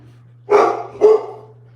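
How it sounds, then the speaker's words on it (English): Two loud, close dog barks in quick succession, each sharp and short with a brief tail, over a faint steady electrical hum. "the dogs do not like him."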